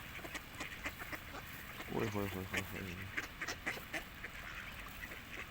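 A duck with a broken beak quacks in a short run of harsh, nasal calls, heard up close over steady background noise and a voice.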